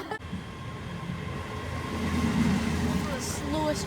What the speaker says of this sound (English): The slowest train I've ever seen.